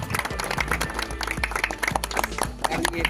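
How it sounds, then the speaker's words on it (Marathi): Applause from a crowd at a village cricket prize ceremony after the final match, a steady burst of many hands clapping with some background voices mixed in. "जोरदार टाळ्या"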